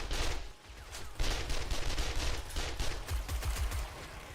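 Gunfire from the survival game 7 Days to Die, including a turret: repeated bursts of shots fire steadily and loud through the whole stretch, with a brief dip early on before the shooting picks back up.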